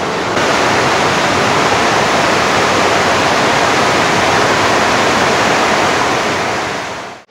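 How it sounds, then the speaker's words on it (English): A waterfall in Panama roars as a dense, steady, broadband rush of falling water, loud and close, continuing without a break until it cuts off abruptly. "I'm in this gorgeous waterfall."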